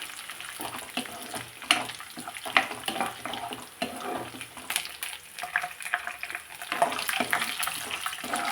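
Dried red chillies frying in oil on a stovetop, a steady close sizzle and crackle with irregular bursts of spitting and stirring scrapes that grow busier toward the end.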